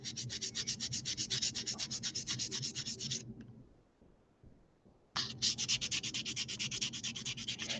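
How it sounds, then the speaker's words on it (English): Rapid, rhythmic rubbing strokes of sandpaper on a faux gemstone of Pardo jewelry clay, close and steady, then a pause of about two seconds before the scratchy back-and-forth resumes at the same pace. "Let's do a little bit of chit chat while I'm sanding here."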